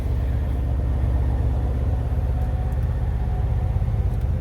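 A 2026 Porsche Cayenne GTS V8 runs at a steady, fairly tame idle, a close, continuous low rumble of engine and exhaust with no speech over it.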